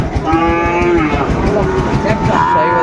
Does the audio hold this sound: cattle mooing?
yes